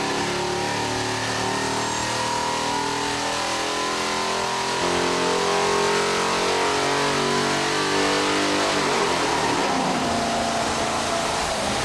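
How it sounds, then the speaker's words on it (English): A 600 cubic inch offshore powerboat racing engine revs on a test dyno, its loud mid-pitched roar climbing and falling in repeated throttle sweeps, with a sharper surge near the end. "this engine here is a 600 square cubic inch engine that they are testing out"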